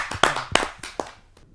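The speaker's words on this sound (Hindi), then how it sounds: "आइए जोरदार तालियों से स्वागत करते" A few people at a Hindi poetry gathering clap briefly to welcome a poet, giving a short, close burst of sharp handclaps that quickly fades out.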